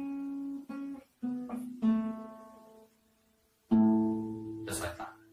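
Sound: guitar riff played to end on the second string

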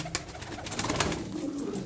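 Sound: pigeons cooing

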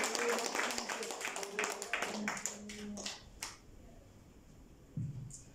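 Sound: congregation clapping loudly in church

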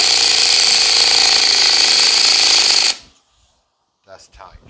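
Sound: tightening flywheel bolt down on riding mower

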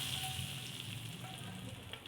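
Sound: tadka tempering sizzling in iron pan for whole masoor

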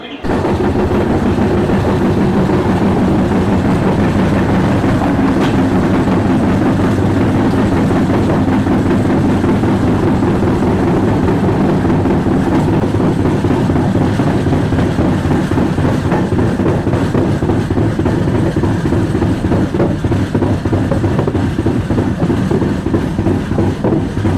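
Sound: train running on a curve

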